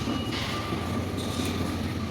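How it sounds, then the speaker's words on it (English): A New York City train rumbles steadily with a dense, noisy roar and faint wheel squeal, close and continuous with no voices. "I decided to take a train, but I'm going to take a different"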